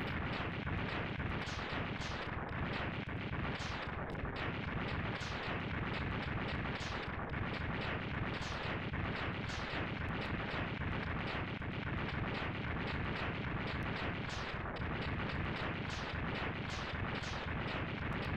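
Explosions from the Mega Man X2 game keep going in a dense, loud barrage of booming blasts, with rapid repeated hits and no let-up throughout.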